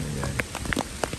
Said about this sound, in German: So, jetzt fängt es richtig an zu hageln.